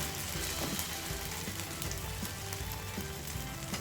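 Oil crackles and sizzles steadily around a Maggie dosa frying on a pan. The sound is continuous and close, with a dense, fine texture.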